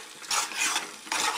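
A spoon stirs a prawn and sorrel curry in a pot after curry leaves and coriander go in, giving a few close, soft scraping and wet churning strokes in a short burst.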